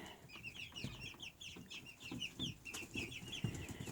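Young chickens, hatched in February, cluck and chirp in a rapid, busy chatter while they spar, with soft scuffling and pecking sounds beneath, fairly faint and close.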